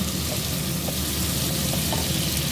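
Chicken and small-cut carrots stir-fry in a hot pan, giving a loud, steady sizzle close up with faint scrapes of stirring and no talking.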